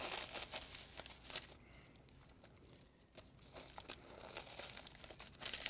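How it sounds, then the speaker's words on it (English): Ribbon is cut and tied around a fizzy bath soak gift package, giving soft close crinkling and rustling of the wrapping with small snips, quiet and without talk. "I'm gonna take my ribbon and cut this off and tie it closed"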